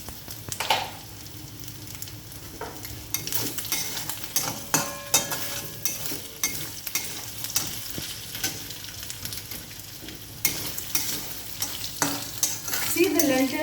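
Lentil dumplings frying in oil in a kadhai while being stirred, a continuous close sizzle with repeated scraping and clinking of the spoon against the pan, growing busier toward the end.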